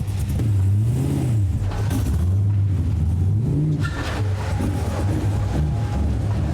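A 1971 Chevrolet Impala with a supercharged LS engine revs repeatedly while driven, pitch rising and falling in waves, loud and close, with some clattering noise toward the end.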